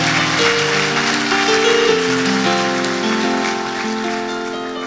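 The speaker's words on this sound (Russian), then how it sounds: "Давай дадим Господу аплодисменты." A church congregation applauds during a sermon, steady broadband clapping that holds throughout and fades slightly at the end, layered over sustained organ-like musical chords.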